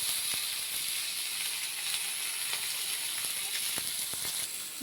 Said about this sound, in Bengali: একবারে আমি ভেজে নেবো।